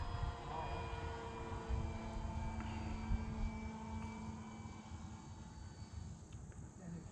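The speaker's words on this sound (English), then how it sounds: "So this is literally the first flight I've flown on this motor" A small electric motor on an Arrows Husky RC airplane hums in flight on its first outing, a faint steady drone heard from a distance over outdoor ambience.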